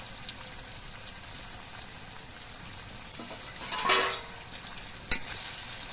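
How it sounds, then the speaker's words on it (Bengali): Ginger garlic paste stirred into capsicum and onion frying in a pan, a low sizzle under wet stirring scrapes, with a louder burst of stirring partway through and a sharp utensil tap near the end. "আদা আর রসুন বাটা নেড়ে চেড়ে মিশিয়ে দিতে হবে।"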